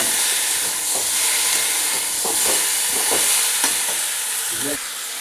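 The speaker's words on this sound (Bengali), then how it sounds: "এবারে ভালো করে কষিয়ে নিচ্ছি।" Spices fry in a pan, giving a steady loud sizzle and hiss with scraping stirs heard close throughout, tapering slightly near the end.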